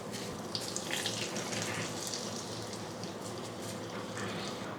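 Golden fried tempering is poured into a pot of Kerala sadya koottu curry. It makes a continuous, even hiss like fast-running water that holds steady throughout, close by and with no voices.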